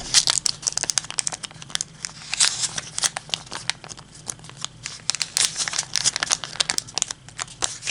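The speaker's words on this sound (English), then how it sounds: "So just mountain fold them inside on the existing crease" Paper being folded and creased by hand for origami chicken nuggets, close crinkling and rustling in quick irregular bursts with sharp crease snaps, no speech.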